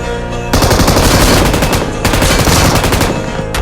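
Rapid automatic gunfire in the battle royale game BGMI, loud, dense bursts that start after a brief lull and run nearly continuously, with one short gap partway through, and no talking over them.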